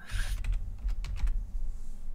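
Someone types on a computer keyboard, with a quick run of close, crisp key clicks and thuds over about two seconds.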